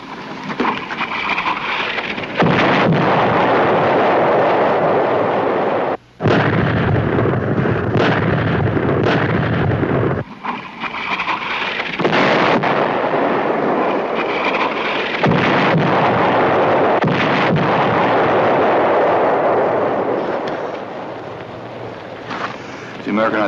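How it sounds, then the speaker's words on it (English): A loud, continuous rumbling American artillery barrage in a World War II TV drama, with heavy booming roars sustained for over twenty seconds and a few brief breaks. "The American artillery starting its barrage."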